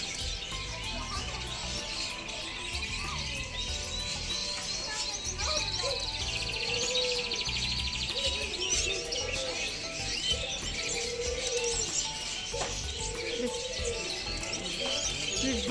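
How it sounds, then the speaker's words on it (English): Caged parrots at a bird sale chirp and squawk steadily through a busy, noisy room, with repeated short calls over constant background chatter and clatter. "These birds are also very nice."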